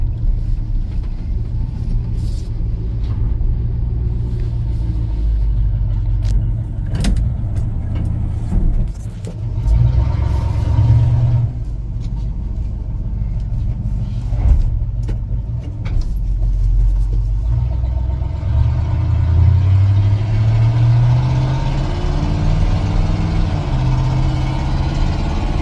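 A 1978 Chevrolet C10 pickup truck engine rumbles steadily while driving, a loud low continuous drone with shifting revs that rise toward the end.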